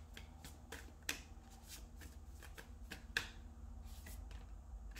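Tarot cards being shuffled and flipped in a steady soft riffling rustle, with two sharper snapping card flicks standing out near and clear, no voices.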